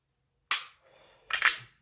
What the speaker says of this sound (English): As you can hear, I am having to rack the slide over and over again.